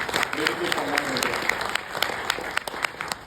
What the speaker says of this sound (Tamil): அவங்களுக்கு ஒரு நல்ல கைத்தட்டு நீங்கள் எல்லாரும்